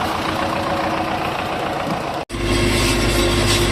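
A tractor engine idling evenly and quietly while harrowing ploughed land, a steady close mechanical rumble with a brief cut midway, then a louder, deeper continuation.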